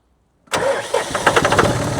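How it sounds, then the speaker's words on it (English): A car engine cranks and catches after an alternator repair, bursting in from silence into a loud, close running engine that holds at a rough, even idle through the rest of the clip. "But let's just see if it'll start."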